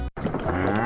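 Cattle lowing in a farm setting, a sustained moo filling the clip after a brief gap of silence at the start, fairly loud and close.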